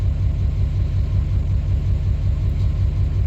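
An LBZ Duramax diesel truck engine runs at idle, a steady, loud low rumble with an even throb that continues unchanged throughout.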